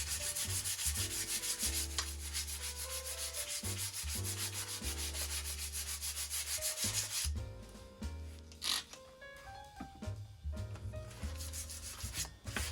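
A bike fork is scuffed by hand before painting for a retro Schwinn Frontier 26-inch mountain bike build, giving steady rhythmic rubbing strokes, close and fairly quiet, alone without talk.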